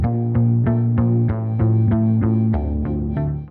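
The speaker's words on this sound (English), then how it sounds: "What I might throw on it too is a little tremolo, just so it's kind of going back and forth through the ears." Grungy synth run through a Guitar Rig effect with tremolo, repeating a steady pulsing chord pattern, loud and alone, with a rhythmic throb on each beat.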